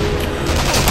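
Gunfire in the Sniper Elite V2 video game, a dense burst of loud, close shots rattling continuously through the short moment with no talk over it.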